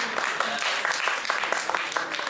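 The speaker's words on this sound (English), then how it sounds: "So give yourselves a round of applause also." An audience at a pageant send-off event claps together in a dense, steady burst of applause, fairly close and continuous throughout.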